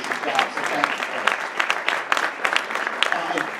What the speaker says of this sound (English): We have Mr. Connor a round of applause for his first year as our MC